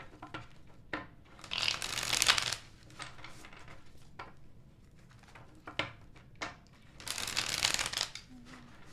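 Tarot cards are shuffled by hand in two distinct riffling bursts, close and crisp, separated by quieter rustling and handling.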